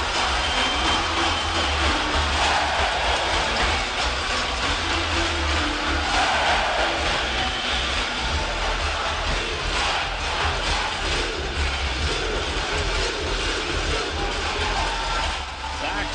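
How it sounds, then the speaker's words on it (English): Hockey arena crowd erupting after a tipped-in goal for the Everblades, a loud sustained roar of cheering that holds steady throughout, with no talk over it. "listen to the crowd"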